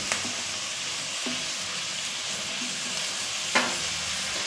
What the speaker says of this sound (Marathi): आता ही टॅमॅटो टाकत आहे।